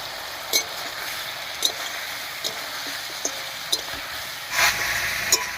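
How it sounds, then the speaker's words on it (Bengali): Slit green chillies go into hot oil already seasoned with salt and turmeric, a soft continuous sizzle punctuated by several sharp spoon-against-pan scrapes and clinks as the mix is stirred. "এবার এর মধ্যে দেব চিড়ে রাখা কাঁচা লঙ্কা"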